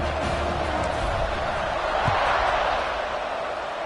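A football stadium crowd at kickoff of a Clemson college game gives off a steady, broad roar and murmur that stays level throughout, beneath a commentator's voice.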